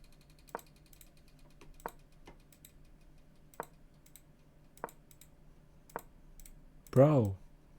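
Sharp, isolated mouse clicks sound at irregular intervals while a chess game is played on screen, ending with a brief louder voice-like burst.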